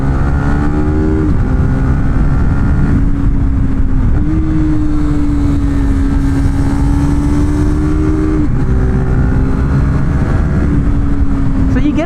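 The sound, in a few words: KTM RC390 motorcycle revving with aftermarket exhaust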